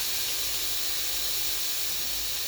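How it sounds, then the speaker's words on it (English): Steam hisses steadily from noodles frying in a hot pan for a leftover fry-up, a constant close sizzle with no voices. "Let that steam rise up, let that sit for a while on the surface of my pan so it can heat up."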